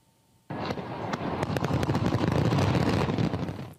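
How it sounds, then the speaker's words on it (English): Fireworks burst over a river in Bangkok at New Year 2026. A sudden loud blast starts a dense, continuous barrage of booms and crackles that lasts about three seconds before cutting off. "Thailand rang in 2026 with spectacular fireworks over a river in Bangkok"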